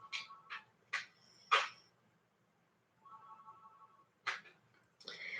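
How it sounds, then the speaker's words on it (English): A phone rings indoors at home. Faint electronic ring tones repeat in short bursts, with a sustained steady tone between them, against a quiet room. "The phone is ringing."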